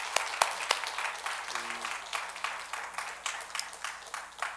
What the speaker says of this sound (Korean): 박수라도 한번 좀 보여드리겠습니다